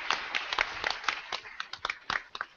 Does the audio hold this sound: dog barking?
no